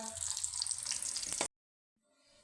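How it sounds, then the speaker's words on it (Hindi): Eggplant pieces frying in hot ghee, a dense loud close crackling sizzle for about a second and a half that cuts off abruptly, followed by near silence and a faint low hiss. "अब इसके अंदर हम थोड़े थोड़े ये बैंगन डाल के इनको फ्राई करेंगे"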